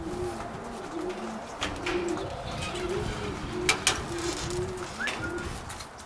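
Racing pigeons in a breeder's loft coo in repeated soft, throaty, rhythmic calls close by, with a few sharper clicks and rustles mixed in.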